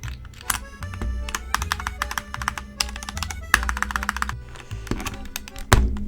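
Typing on a KEMOVE Snowfox DK61 mechanical keyboard with Gateron linear switches, bursts of fast, crisp clacks in uneven runs with short pauses and a few heavier thocks, close and clear with no voices.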